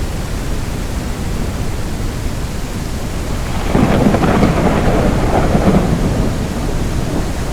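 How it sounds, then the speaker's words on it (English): A heavy thunderstorm weather effect in the video game Belts of Iron: loud, steady rain hiss with a deep rumble of thunder that swells about halfway through and rolls on to the end. "Oh, it's thundering."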